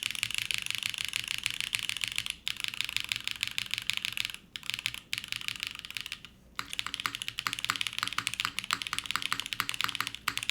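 Typing on a Matrix mechanical keyboard, a rapid, dense stream of crisp clicky keystrokes with two brief pauses, close and loud.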